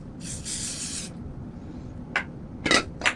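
An aerosol can sprays in one long hiss of about a second, followed after a pause by three short bursts in quick succession.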